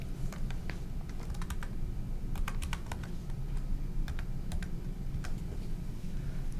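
A health card number being typed on a computer keyboard, quick irregular key clicks in short bursts with brief gaps, close and moderately quiet over a low background hum, with no talking.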